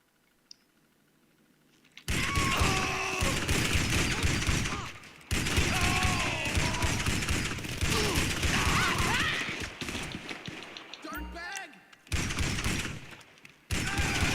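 Shotgun blasts in a GTA 5 Online vehicle robbery mission, loud bursts of in-game gunfire and clattering action filling most of the stretch, broken by a couple of short quiet gaps.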